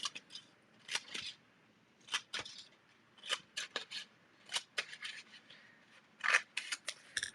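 Scissors trimming across paper in a run of short, crisp snips with irregular gaps, close and fairly quiet, no talking.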